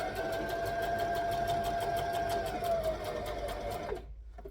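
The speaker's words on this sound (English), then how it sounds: "I'm just going to top stitch right near the edge" A sewing machine top stitching close to the edge of a fabric library bag, a steady fast mechanical whir with rapid even needle clatter running for about four seconds before stopping abruptly, close and alone.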